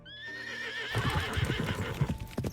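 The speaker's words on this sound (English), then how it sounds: "The slight tug of the reins, he prompts the horse to leap across a ravine." A horse in a video game lets out a loud, clear whinny lasting about a second, followed by a busy clatter of hooves and movement.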